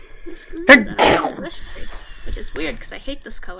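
A single loud, close sneeze bursts out near the start, with a second sharp exhale just after it, and a person talks before and after it.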